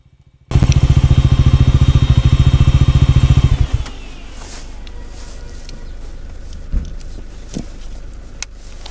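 A motorcycle engine runs loud and close with a steady, rapid pulsing rumble for a few seconds, then cuts down to a quieter idle with clicks and clatter as the bike is parked in Aru Valley near Srinagar.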